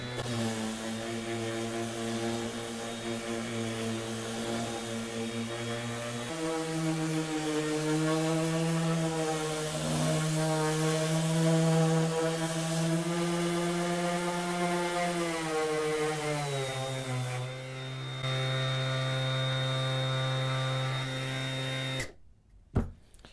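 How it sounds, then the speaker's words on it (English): A DeWalt DCW210B 20V orbital sander running on speed 1 hums steadily at close range, its pitch shifting slightly as it works across the surface, before it cuts off abruptly near the end, with no talking. "I'm just gonna sand this thing as clean as I can."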